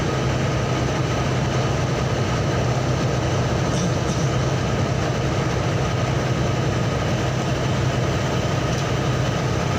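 Launch boat engines running slowly at low speed in fog, a continuous low rumbling drone with a steady mechanical hum, close and unchanging, no talking.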